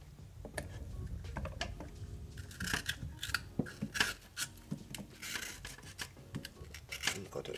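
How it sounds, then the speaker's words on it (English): A knife cuts a sweet pepper for red peas soup with a rapid series of close, crisp clicks and rubbing scrapes on a board. "And cut out the sweet pepper."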